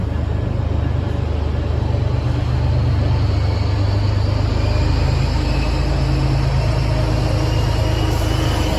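A Boston subway train on the Orange Line rumbles along steadily with a deep, constant low roar and rattling underneath, loud and close, with no pauses.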